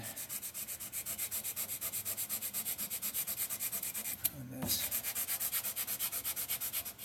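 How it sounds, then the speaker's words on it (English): Sandpaper rubbing over a wooden book box, steady rhythmic back-and-forth strokes at close range, about two per second, with a brief pause and a small knock midway before the strokes resume. "I might want to sand this whole thing again"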